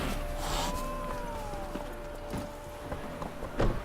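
Horse hooves clip-clop at a walking pace in The Witcher 3 video game, steady and moderately near, layered over soft game ambience and a sustained tone.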